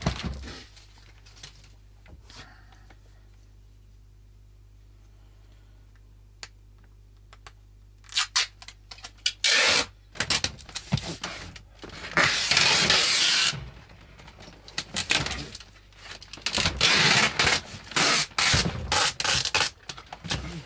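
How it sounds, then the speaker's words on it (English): Brown packing tape is pulled and stretched around a box seam, making loud ripping and scraping bursts after a quiet stretch, repeated in several rough strips close by. "I'm going to put brown tape all around the seam basically."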